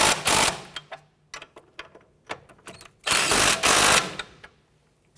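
Nuts on a Kia Sorento front strut assembly snugged down with a power tool, short sharp ratcheting bursts and light metallic taps in between, then two longer loud whirring runs, close and with no speech.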